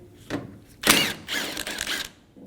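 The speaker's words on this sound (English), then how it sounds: "Using a T45 bit, remove the bolt for the cable." A ratchet with a T45 Torx bit turns out a tailgate cable bolt on a 2019-2025 Ram 2500, giving a few close bursts of clicking and grinding metal.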